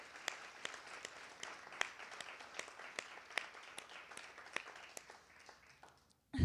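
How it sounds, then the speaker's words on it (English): Audience applause for thesis presenters at a three minute thesis competition, steady sustained clapping from a crowd filling the room, with sharper individual claps standing out before it cuts off. "Round of applause for all these presenters."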